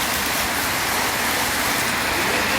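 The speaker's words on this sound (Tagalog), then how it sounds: "naulan. Lakas ng ulan." Heavy rain pours down steadily, a dense, even hiss of water striking surfaces with no pauses.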